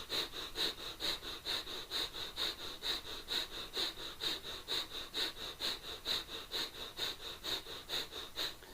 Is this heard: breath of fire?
yes